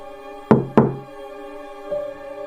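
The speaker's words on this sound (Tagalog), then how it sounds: "2 katok. Malakas. Parang galing mismo sa loob ng bahay." Two loud, sharp knocks on a door inside a house land in quick succession, each ringing briefly, followed by a fainter thud and a sustained low tone underneath.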